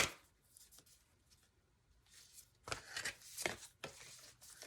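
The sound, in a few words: tarot cards being shuffled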